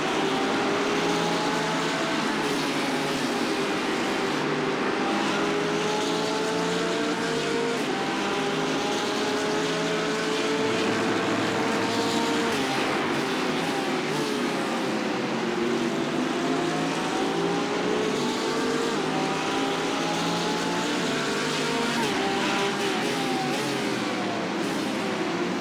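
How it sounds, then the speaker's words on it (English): A race car engine screams at high revs through Circuit de Catalunya, the pitch climbing and dropping through gear changes as it pulls away from a Porsche. The sound is loud and sustained, with no one speaking. "just hear that engine screaming"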